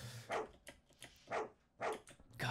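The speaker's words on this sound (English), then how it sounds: "Oh, it's the dog in the cage that are barking." A caged dog in the horror video game Fear and Hunger barks in four sharp, evenly spaced bursts, faint and somewhat distant, with no talk over them.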